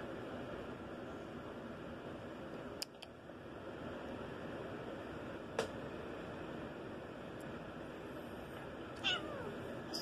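A cat meows faintly a few times in a quiet room, soft calls over a steady background hiss with a couple of small clicks.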